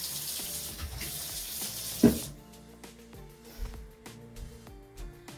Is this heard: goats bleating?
no